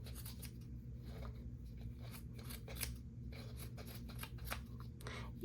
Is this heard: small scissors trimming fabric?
yes